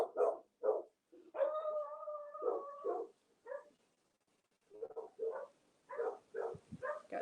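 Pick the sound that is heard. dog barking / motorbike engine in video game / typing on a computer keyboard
dog barking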